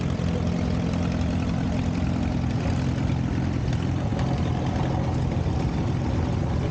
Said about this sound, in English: Matt's driving a 1947 Allis-Chalmers Model C.